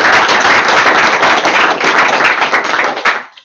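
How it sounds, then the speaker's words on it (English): An audience at an OWASP Wellington security meetup gives a short, dense round of applause for an introduced speaker, steady clapping that fades out after about three seconds. "Everyone, please give him a round of applause."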